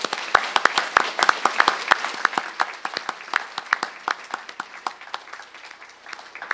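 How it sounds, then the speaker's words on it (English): An audience at a fashion design school talk claps in a round of applause, with crisp individual claps clearly audible and thinning slightly toward the end. "So would you all please give them a round of applause?"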